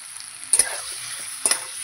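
Spices frying in a pan for rohu fish curry, a soft steady sizzle broken by two sharp spatula scrapes or knocks against the pan, close and brief.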